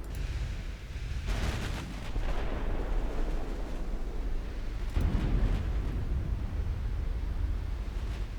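Battleship guns fire in the naval game Ultimate Admiral Dreadnoughts. Two heavy booms roll out into long, rumbling echoes over constant low battle noise.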